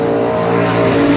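A Ford Cortina engine revs hard at a drag race, a loud, close, sustained roar with a steady buzzing tone across the whole brief burst.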